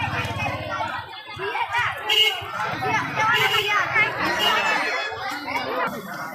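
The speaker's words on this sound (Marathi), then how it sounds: "खूप जबरदस्त गर्दी मित्रांनो खूप जबरदस्त गर्दी" Dense crowd noise fills a village fair (jatra) at Pimpalner: steady, close hubbub of many overlapping voices chattering, with scattered laughter throughout.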